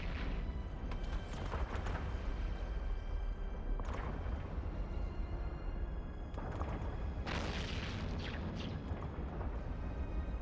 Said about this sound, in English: Can I take these guys out with my smart bomb?